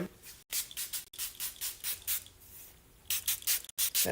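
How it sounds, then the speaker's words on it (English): A magnesium spray bottle is pumped close up, giving a quick run of about a dozen short, hissing spritzes in an uneven rhythm, with a few brief pauses between groups. "this is a spray bottle of magnesium"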